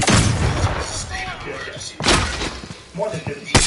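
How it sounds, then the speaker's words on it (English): In a PS4 shooter, a flashbang grenade goes off amid constant gunfire, with sharp, loud bursts at the start, the middle and the end, and voices heard through the game combat. "Flashbang out!"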